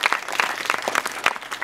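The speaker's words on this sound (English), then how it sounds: "Round of applause" A small audience at a planetarium show gives a round of applause, sparse and uneven clapping with distinct separate claps, fairly close and moderately loud.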